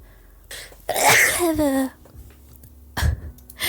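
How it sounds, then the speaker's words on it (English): A single loud sneeze with a drawn-out inhale before it, followed by a short burst of another noise, heard close up. "I need to sneeze, wait a second"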